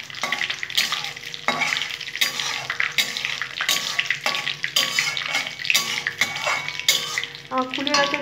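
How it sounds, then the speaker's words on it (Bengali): Dried red chili crackles and sizzles in hot oil as a tempering for a sweet-and-spicy jujube (kul) pickle, with steady frying hiss broken by repeated sharp stirring scrapes at a near, fairly loud level and no talking. "শুকনো লঙ্কা দিয়ে দিলাম একটা, একটু ফোড়নটা থেকে গন্ধ বেরোয়"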